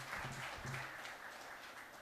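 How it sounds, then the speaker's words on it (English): An awards ceremony audience applauds with a steady, dense wash of clapping that continues at an even level the whole time. A faint voice sits briefly beneath it. "a big round of applause for all of that and for all of you to being here"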